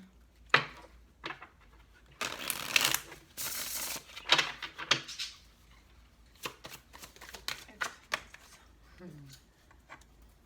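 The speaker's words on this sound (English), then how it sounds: "Last shuffle." Tarot cards being shuffled in several quick riffling bursts, with softer snaps and taps of cards in between, close and fairly quiet.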